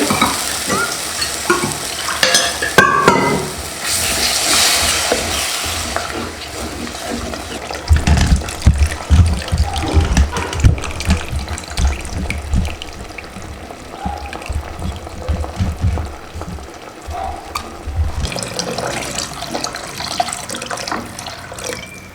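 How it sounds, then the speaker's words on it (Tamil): Tamarind water pours into a sizzling masala base for a nethili fish curry, with splashing and loud frying crackle that keeps bubbling and hissing through the clip, alone without talk. "புளியை கரைச்சி இதில் ஊற்றிடலாம்"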